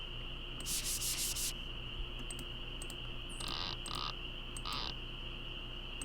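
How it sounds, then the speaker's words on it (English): Sandpaper rubbed on an object inside a Nancy Drew game. A few short, scratchy rubbing strokes sit over a steady tonal hum, followed by several quick clicks. No one speaks. "I wonder if we can use the sandpaper now on Iggy here"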